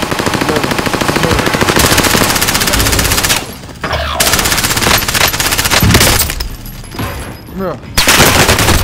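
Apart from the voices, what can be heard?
gunfire in Warzone video game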